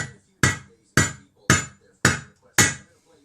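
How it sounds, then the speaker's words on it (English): Rubber mallet striking a metal extension bar to drive out a corroded part on a Bonneville motorcycle, six evenly spaced solid thuds about half a second apart, close and loud with brief decays and no talk. "Give this a bit of a tap with the rubber mallet and see if we can get it out."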